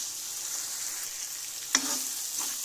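Meat fries in a pan with a soft, steady sizzle, and one sharp clank of a utensil on the pan midway. No one talks.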